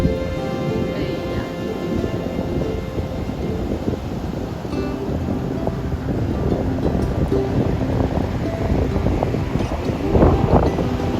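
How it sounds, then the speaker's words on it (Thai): Large, fast-breaking ocean waves roll onto a beach in a steady, loud broadband roar, with wind buffeting the microphone throughout and a slightly stronger surge near the end. "คลื่นมันลูกใหญ่แล้วก็มันแตกเร็วด้วยค่ะทุกคน"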